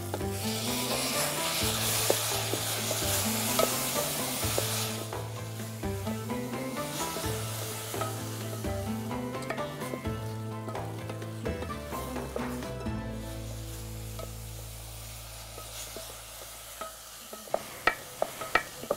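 Tomato sauce cooking in a pan for bulgur pilaf simmers with a soft continuous hiss and stirring, set under steady low music, with a few sharp clicks of utensils near the end.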